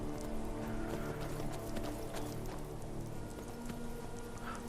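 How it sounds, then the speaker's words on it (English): Horse hooves clip-clopping in Skyrim, a steady rhythm of muffled hoofbeats under low ambient game sound, fairly quiet throughout. "Park the horse here."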